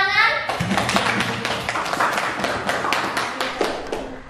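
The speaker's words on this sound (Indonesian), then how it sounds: "Tepuk tangan" A classroom of students claps together in a brisk, steady patter of hands that carries on for several seconds after a short spoken word at the start, fairly close and lively.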